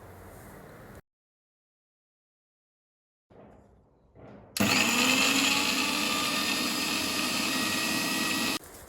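A mixer grinder grinding coriander, cumin, ginger, garlic and coconut into a fine paste whirs loudly and steadily for several seconds after a brief silence and a couple of short start-up bursts, then cuts off.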